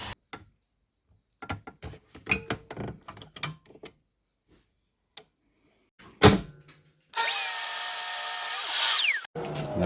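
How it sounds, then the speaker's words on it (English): A jigsaw with a long blade cuts a wedge into a wooden gate post, heard as a loud, steady buzzing run of about two seconds near the end, after scattered taps and knocks. "I'll use a jigsaw with a really nice long blade on it and cut through until I'm about 10 millimeters away from the back of the post"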